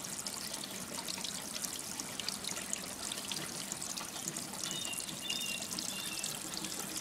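Water runs steadily through a siphon into an outdoor tank, a continuous trickling, splashing flow heard close and fairly loud, with faint bird chirps in the background and no speech.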